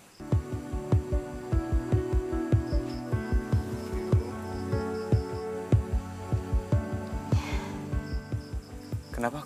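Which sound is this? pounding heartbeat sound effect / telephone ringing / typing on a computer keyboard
pounding heartbeat sound effect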